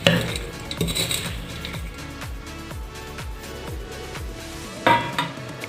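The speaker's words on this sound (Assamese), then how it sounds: "এতিয়া ঢাকনখন খুলি দিছোঁ, লৰাই দিছোঁ।" Boondi laddoo mix being stirred in cooled sugar syrup after the lid is lifted off the pot, with a metal lid clank at the start and a run of rhythmic scraping spoon strokes against the pot, fairly close.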